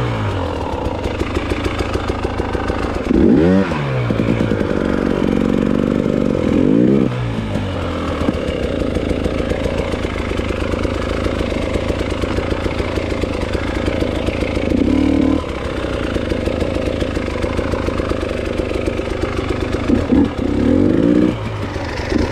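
An enduro motorcycle engine idles and revs on a rough trail, a loud, continuous mid-pitched drone close by, with several throttle blips swelling and dropping back.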